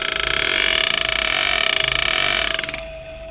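A card flaps against a spinning, vibrating drive shaft on a driveline demonstration, producing a loud, rapid, buzzing flutter that holds steady for a few seconds and then stops.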